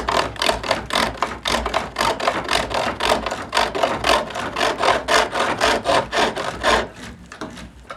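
The short point of a skew chisel cuts a spinning wooden stool stile on a lathe, a rhythmic rasping that repeats about three times a second, close and steady, tailing off near the end.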